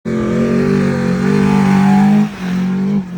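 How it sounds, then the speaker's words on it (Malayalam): Loud vehicle engines driving through desert sand near Dubai at night, a steady close revving drone that dips briefly toward the end before returning. "ഇടയ്ക്കിടയ്ക്ക് മണലിലൂടെ ജാതി സൗണ്ടിൽ ഓരോരോ വണ്ടികൾ പോകുന്നുണ്ട്"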